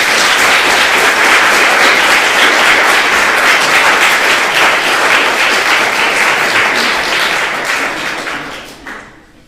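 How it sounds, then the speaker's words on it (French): A large audience applauds loudly and steadily, a dense wash of clapping that holds for several seconds before tapering off at the end. "Je vous demande d'applaudir Monsieur Xavier de Bonaventure"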